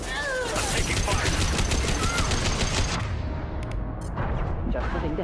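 Rapid gunfire in the sci-fi shooter Mass Effect Legendary Edition, loud and dense for about three seconds, then tapering into scattered shots with game sounds and some voice.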